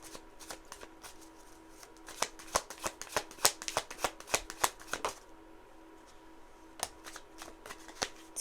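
A deck of tarot cards is shuffled close up in a quiet room, with bursts of rapid crisp riffling and flicking and a short pause before a few final taps.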